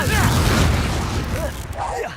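Confringo fire spell blasts from Hogwarts Legacy, a loud booming fiery burst sustained through the clip with game effects layered over it.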